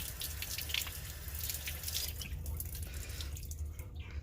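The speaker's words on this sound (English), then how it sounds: "Squeeze the water out." Water dripping and trickling as wet paint brushes are squeezed out over a sink, a steady close splashing patter with a low background hum, no talk.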